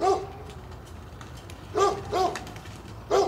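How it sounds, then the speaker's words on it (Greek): A small dog barks in a Greek village, giving a few short yapping barks in separate bursts over a quiet background, at moderate distance. "Έχουμε και ένα σκυλάκι που γαυγίζει."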